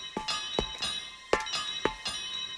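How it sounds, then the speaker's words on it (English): Toby the tram engine's bell from Thomas & Friends rings in a quick series of bright metallic strikes, about five clangs in uneven pairs with ringing overtones, heard alone. "He heard the banging and Toby's bell."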